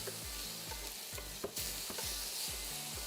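Bacon sizzling in a pan during a timed chef cooking competition, a steady soft crackle with faint rhythmic mechanical clicks underneath and no voices.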